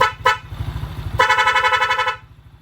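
Two horn blasts sound close by, a short toot followed by a longer one, over a low idling engine rumble.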